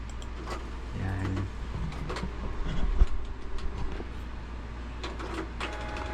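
Canon G1010 inkjet printer running an all-color head cleaning cycle, a steady low mechanical hum with intermittent clunks, whirs and a sharp knock midway, fairly close, with a voice briefly talking.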